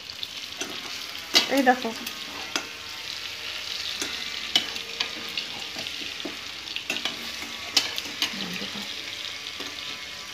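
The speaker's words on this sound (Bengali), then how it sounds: "দেখো বন্ধুরা, আমি কি সুন্দর নাড়িয়ে নিচ্ছি।" Labra, a mixed vegetable curry, frying in a pan while being stirred, with intermittent scraping strokes over a soft sizzle and a brief spoken remark.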